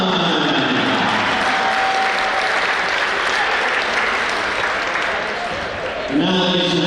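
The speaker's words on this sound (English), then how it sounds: "Please give a warm round of applause" A gym crowd at a men's college basketball game, Alderson-Broaddus against WV State, gives a loud, continuous wash of applause and cheering, with an announcer's voice resuming right at the end.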